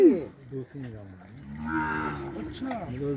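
A cow moos close by in a long, low, wavering call that rises and falls over a few seconds.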